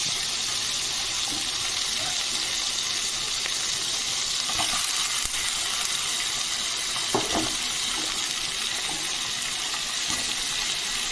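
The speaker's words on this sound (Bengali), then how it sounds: "দু মিনিটের মতো মশলাটাকে একটু ভাজা ভাজা করে নিয়ে আমি সবজিটা অ্যাড করে দেবো" Mixed vegetables fry with a shrimp-paste spice mixture in a hot pan for a Bengali shukto, a steady soft sizzle broken by a few clinks and stirring knocks, with no voices.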